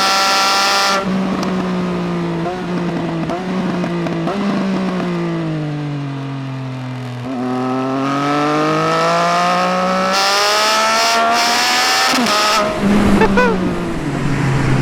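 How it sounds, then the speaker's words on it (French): A 2018 Triumph Speed Triple 1050 RS motorcycle engine sings loud and close while riding, holding a steady drone, then rising and falling in pitch as the throttle opens and eases, with no talking over it. "Et moto qui chante, donc je vous laisse avec le pur sound."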